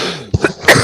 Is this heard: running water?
no